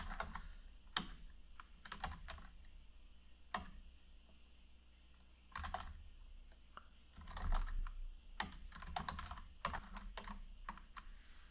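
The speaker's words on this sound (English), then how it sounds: "Gotta type it right." Typing a terminal command on a computer keyboard, with bursts of close, crisp key clicks separated by short pauses over a faint background hum.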